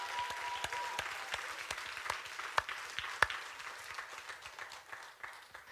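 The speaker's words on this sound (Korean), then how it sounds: "우리 박수 한번 주시죠" A church congregation at a Korean worship service breaks into sustained applause, a steady wash of many hands with sharp individual claps standing out, moderately distant and without speech.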